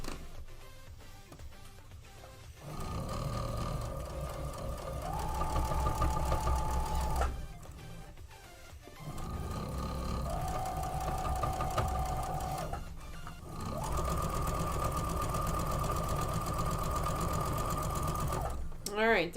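Home sewing machine stitching a quilt block, three sustained whirring runs with short pauses between them, close and steady with a faint hum underneath, no talk during the stitching.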